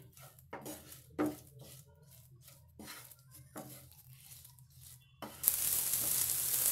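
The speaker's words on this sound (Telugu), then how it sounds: "ఇవన్నీ వేసుకున్న తర్వాత వీటిని బాగా కలుపుకోవాలి" Curry masala, half a tablespoon, and other spices being stirred together in a pan for a mushroom curry, with a few scraping clinks of a spoon before a loud sizzle of frying starts near the end.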